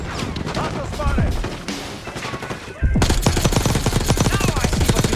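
Minigun fire in the video game Call of Duty: Black Ops, heavy rapid automatic bursts that run into a dense, loud, sustained stream of shots in a busy firefight.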